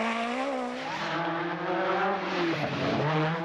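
Historic World Rally Championship car with open exhaust and carburettor driven flat out through a forest, its engine howling loud and sustained, pitch climbing and dropping through gear changes, no voices.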